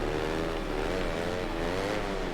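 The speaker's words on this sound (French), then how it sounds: "La moto elle part n'importe comment." Motorcycle engine from the racing video game MES6 whines steadily with wavering pitch, loud and continuous throughout, with no voices.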